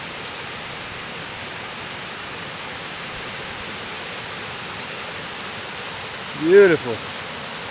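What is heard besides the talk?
small waterfall at a campground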